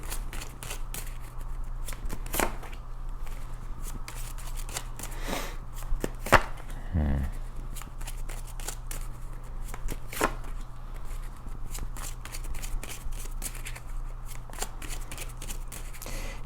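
Tarot cards shuffled by hand during a reading, a steady papery riffle with scattered sharper snaps and flicks, close and fairly quiet, running continuously with no talk.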